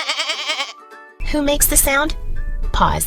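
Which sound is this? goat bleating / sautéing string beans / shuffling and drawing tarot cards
goat bleating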